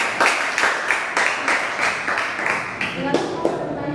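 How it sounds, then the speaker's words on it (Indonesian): A classroom audience claps in a fairly regular rhythm after a group presentation on game moves such as passing the ball, with voices mixed in under the claps. "Oke, beri tepuk tangan untuk"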